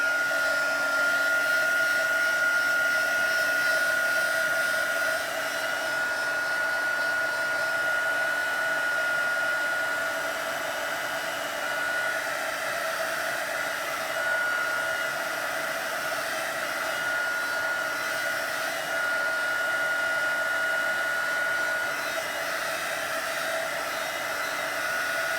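A hair dryer blows steadily on a handmade craft card, a continuous close whirring hum with a whiny tone, loud and unbroken throughout with no speech.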